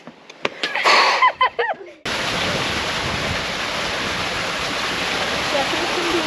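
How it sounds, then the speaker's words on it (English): Voices and shouts give way to a loud, steady, rushing roar of a waterfall in Millstream Chichester and Karijini National Park in the Pilbara, heard up close and continuous. "There's absolutely no way I'm coming this far and not going for a swim in that waterfall."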